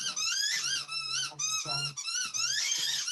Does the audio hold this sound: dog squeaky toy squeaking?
yes